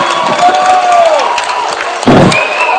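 Crowd noise from a men's Division III college basketball game, Chicago Maroons hosting WashU, a loud steady roar of cheering that swells again near the end, with whistles or shouts cutting through.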